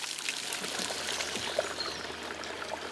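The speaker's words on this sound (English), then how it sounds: "Bubbling spring water from an underground lake a mile below the surface dissolves limestone on its way to the surface" Spring water trickles and pours steadily at the limestone-encrusting Dripping Well in Knaresborough, a constant, even wash of running water at moderate distance with no voices.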